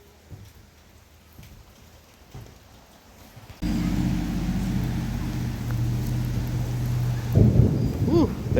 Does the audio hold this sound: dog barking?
no